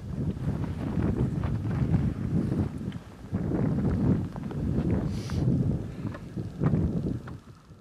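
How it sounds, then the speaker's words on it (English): Gusty wind buffets the microphone outdoors on a Texas antelope hunt, rising and falling in loud rumbling waves with brief lulls between gusts, no talking. "A lot of wind out here today"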